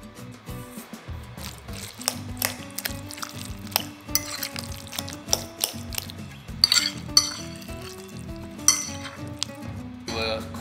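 Guacamole being stirred with added tomatoes and chopped cilantro, with soft scraping and clinking of a utensil against a bowl in irregular strokes, close and moderately loud, with brief sharper knocks.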